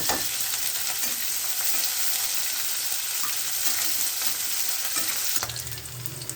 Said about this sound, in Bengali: শুকনো লঙ্কা ফোড়ন দিল, পেঁয়াজ দিব, একটু সাদা জিরে, পেঁয়াজ ফোড়ন চলে গেল।